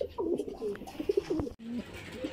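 Racing pigeons at a loft during a derby race coo in soft, repeated low throaty phrases, several overlapping birds close by, with a brief break before cooing resumes.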